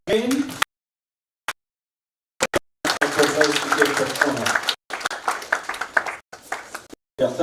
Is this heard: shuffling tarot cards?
no